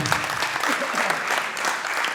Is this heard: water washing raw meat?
no